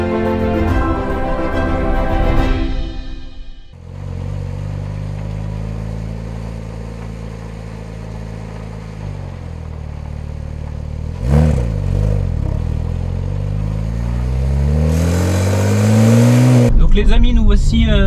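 Porsche 997 Turbo Phase 1 heard from inside the car while driving, engine rising and falling through several loud acceleration pulls and gear changes, with a strong rumbling roar near the end.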